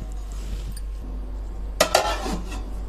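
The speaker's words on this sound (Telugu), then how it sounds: "మూత పెట్టేసుకుందాం." Someone sets a metal lid onto a cooking pot on the stove, making two quick, close clinks over a low steady hum.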